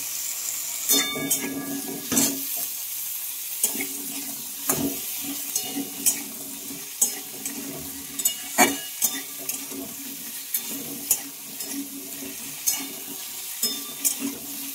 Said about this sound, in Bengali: তো আলুগুলো দিয়ে নিয়ে বেশিক্ষণ ভাজবো না, একটু নেড়ে ফিরে নেব